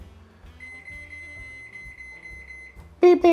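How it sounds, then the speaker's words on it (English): A microwave oven beeps in a short run of high, evenly spaced electronic tones over a low hum, and a louder burst of sound comes at the very end. "All right, let's get that microwaving."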